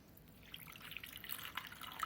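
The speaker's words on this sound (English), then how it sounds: "Then add some water." Water is poured into a jamun mixture of jamuns, sugar and salt, giving a faint, brief trickle and splash with quiet dripping that grows slightly as it goes on.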